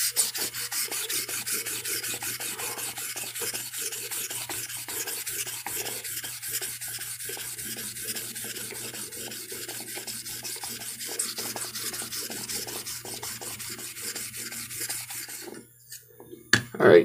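Steady abrasive rubbing from a honing stone, a continuous rasping scrape held for about fifteen seconds before it stops, with a couple of louder knocks at the end.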